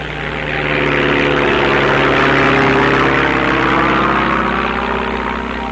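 Steady droning helicopter engine noise swelling and fading slightly, a loud rotor hum passing nearby, in Antarctica in 1957.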